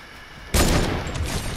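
Gunfire in a video game battle, a sudden loud burst of shots that hits hard and then trails into a sustained noisy rumble with quieter follow-up shots.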